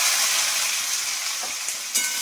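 Snakehead (shol) fish frying in a pan, a close, bright continuous sizzle with a couple of faint spatters and a small clunk near the end, no voices.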